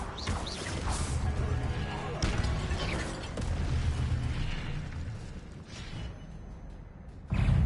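Spell effects from Hogwarts Legacy, dense bursts, pops and whooshing blasts layered over game music and combat noise, with a loud surge at the very end.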